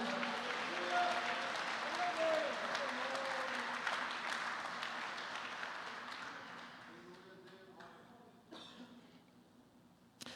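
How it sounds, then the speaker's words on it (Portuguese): Applause fills a church service, steady and sustained for several seconds, then thinning out and fading toward the end, with a few coughs and scattered voices underneath. "Você pode aplaudir o Senhor Jesus?"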